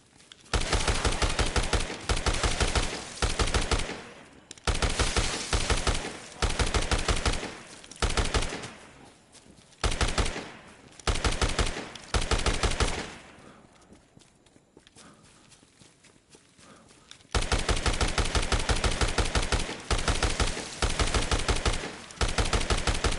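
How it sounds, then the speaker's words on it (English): Bursts of rapid automatic gunfire from the Dead Rising Deluxe Remaster video game, loud and close, in repeated volleys with a quiet pause partway through before firing resumes. "I thought that was an MG for a second."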